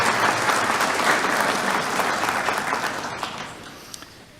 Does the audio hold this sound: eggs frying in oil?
no